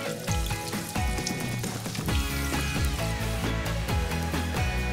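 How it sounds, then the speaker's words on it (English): Continuous crackling sizzle of chicken fillet frying in hot oil, steady and fairly loud, mixed with rhythmic background music. "Now frying the chicken fillet"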